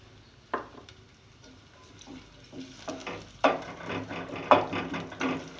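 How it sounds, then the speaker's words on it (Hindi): Chopped onions go into spices frying in hot oil in a pan for beef masala curry, giving a soft, steady sizzle with clattering stirs and scrapes of a spoon at moderate volume, no talking. "बस ये मसाले इसमें फ्राई हो गए, तो अब मैं इसमें डाल रही हूँ प्याज"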